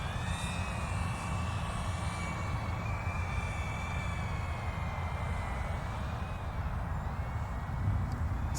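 An iFlight Defender25 4S FPV drone in flight over a road, its motors giving a continuous high buzzing whine that rises and falls gently in pitch, steady and fairly close, with no voices.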